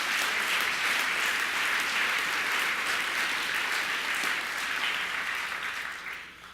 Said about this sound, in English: they really should enjoy a round of applause right now